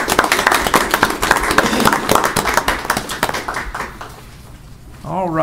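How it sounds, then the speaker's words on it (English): Audience applause at a Rankin County, Mississippi Board of Supervisors meeting: dense, steady clapping from a room of people that tapers away, with speech over it and a voice picking up near the end. "So we should applaud you."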